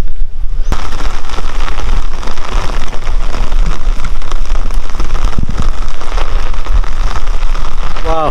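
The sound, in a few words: rain falling by a river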